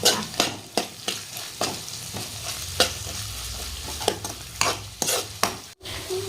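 Red chili paste and Schezwan chutney stirred into vegetables frying for street-style veg fried rice, with a steady sizzle under repeated scraping spoon strokes at a brisk, uneven rhythm.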